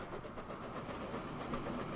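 A train rolls steadily through the Transport Fever 2 video game, heading for Bristol Annex, with a continuous low rumble and hiss close by and no talking.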